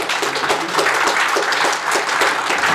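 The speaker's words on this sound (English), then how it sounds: "It's a good thing that you clap before the talk." A conference audience at a Lambda Days 2017 talk claps steadily, a dense, even wash of many hands close by, filling the whole stretch without pause.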